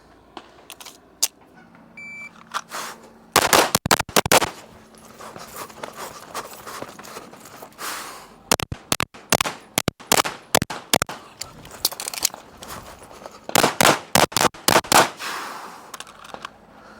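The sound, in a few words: Walther PDP pistol gunfire at steel targets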